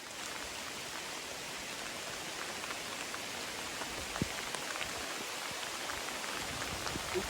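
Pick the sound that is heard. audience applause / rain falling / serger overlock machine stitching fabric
rain falling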